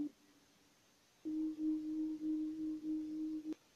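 Sustained amapiano-style synth chord built in Caustic 3 holds a steady tone in several pulses, each swelling and dipping slightly, after a faint quieter stretch, with no voices present.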